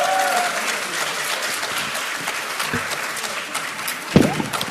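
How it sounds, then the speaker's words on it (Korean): Audience applause welcoming a lawmaker being introduced at a Korean political talk event, steady dense clapping throughout with a brief louder burst near the end. "큰 박수 부탁드리겠습니다"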